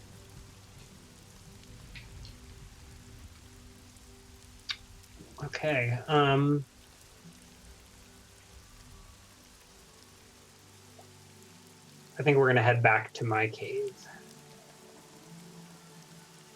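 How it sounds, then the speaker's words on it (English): Rain keeps falling as a soft, steady hiss of drops, the ambience for a tabletop role-playing game after two days of rain, running beneath a couple of short spoken phrases. "it's been raining for 2 days now"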